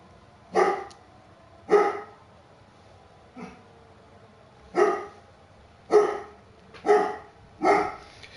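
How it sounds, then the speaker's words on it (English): An indoor pet dog barks repeatedly, seven sharp barks at irregular intervals of roughly one second, one noticeably softer, close and clear over near silence. "If you could try and not bark when I'm streaming,"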